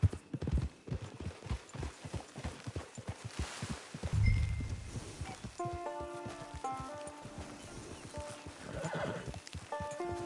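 Horse hooves in Red Dead Online clip-clop at a brisk, steady pace on hard ground, with a horse snorting and whinnying midway and faint musical tones in the background.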